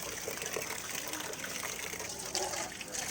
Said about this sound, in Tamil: ஸோ இது வில்லேஜுன்றதுனால இந்த நல்லா வாட்டர் சத்தம் கேட்குது.